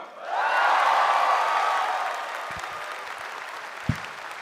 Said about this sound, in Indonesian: Beri tepuk tangan sekali lagi untuk Ratanca.